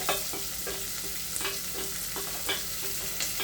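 Onion, green chilli and curry leaves fry in a pan with a steady sizzle and faint asafoetida in the oil, broken by a few scraping stirs at a fairly close distance.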